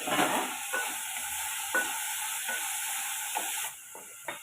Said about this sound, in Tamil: இப்போ இதில் நம்ம தக்காளி ஒரு தக்காளி எடுத்துருக்கோம் அதையும் சேர்த்து வதக்கி